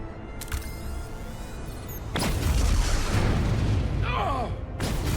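Detonation blast in a Star Trek space battle scene: a sharp crack followed by a deep, sustained rumbling roar that swells loudly and holds, layered over a background of sci-fi effects and tones.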